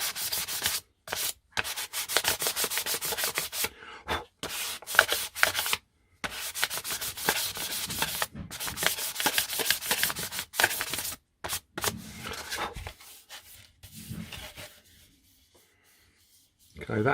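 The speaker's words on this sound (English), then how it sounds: "I'm just going to finish it off lightly with the P800. Just give it a little bit of a better sanding" P800 sandpaper is rubbed by hand over a car door mirror cover in close, rhythmic scratchy strokes, broken by short pauses and fading out toward the end.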